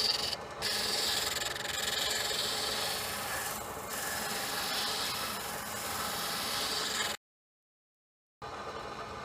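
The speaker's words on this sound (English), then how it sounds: "I'm gonna use the drill press to smooth out this edge in here." A small sanding drum on a drill press grinds against the edge of a wooden gate handle, a steady close abrasive rubbing for about seven seconds, then a brief silence before the rasping resumes.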